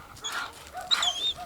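A pet dog pants and whimpers close by in a brief burst of soft breathy panting and high whines, with no talk.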